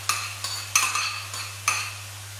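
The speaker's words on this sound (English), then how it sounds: "You're going to hear it steam and sizzle." Chicken mince and sauce in a pan, stirred with utensils that scrape and clink in a few distinct strokes over a soft sizzling hiss and a low steady hum.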